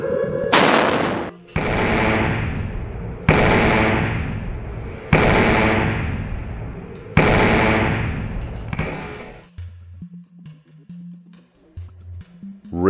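Five loud, evenly spaced blasts of electromagnetic railgun fire, each a sharp crack trailing into a roaring decay, followed by a quieter stretch with low mechanical hum.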